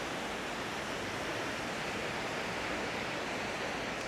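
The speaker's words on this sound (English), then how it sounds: "You can hear the waves." Sea waves wash steadily against the Gulf of Thailand shore in a continuous, close broadband roar with no talk.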